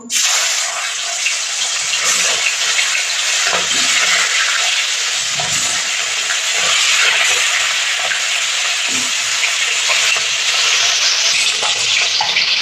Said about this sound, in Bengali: মাছটা ভাজার জন্য আমি কড়াইতে তেল গরম করে নিয়েছি আমি মাছগুলো ভেজে নেব